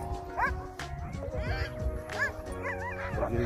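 Several dogs bark and whimper in short, high yelping bursts, some near and some overlapping, with whiny rising cries between the barks and a low voice or two faintly beneath.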